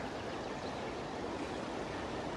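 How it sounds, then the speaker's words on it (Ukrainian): A river flowing near Kasprowy Wierch in the Polish mountains, a steady broadband rushing wash of water heard alone at an even level throughout. "Річка там тече, так?"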